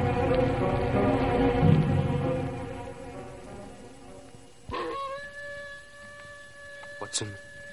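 A dog howls on the moor in a French radio drama of The Hound of the Baskervilles, a distant drawn-out cry rising after a swelling musical passage, with voices speaking around it.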